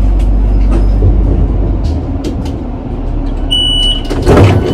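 A train rumbles loudly as it pulls away from a small station platform, with a steady low roar, a few clunks and a brief high tone, then a louder burst near the end.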